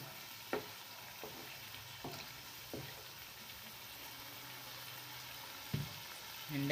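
Corn cooking in a pot for a beans and corn porridge is stirred, giving a faint, steady simmering hiss broken by a few soft, scattered spoon knocks against the pot.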